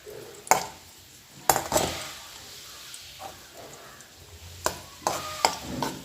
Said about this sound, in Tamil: இப்போ திராட்சையை சேர்த்து நல்லா எலும்புற மாதிரி பொரிச்சுக்கணும்